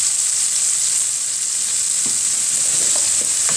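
Onions sizzle and fry steadily in a hot pan, a constant bright hiss with faint crackles, close and alone without voices.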